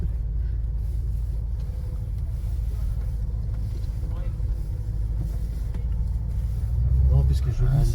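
A vintage Cadillac engine rumbles low and steady from inside the car, with a voice talking over it and the rumble rising near the end.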